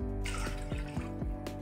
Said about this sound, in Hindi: अब मैंने गैस पे एक कढ़ाई रख ली है और इसमें हम 3 से 4 ग्लास पानी डाल देंगे